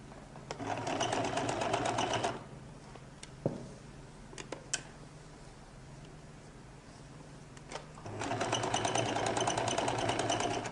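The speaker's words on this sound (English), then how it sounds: "So I've pinned it now, I can begin to sew." A sewing machine stitches a lady's jacket in two loud, fast, steady runs, separated by a quieter pause with a few clicks and taps, all heard close up without talk.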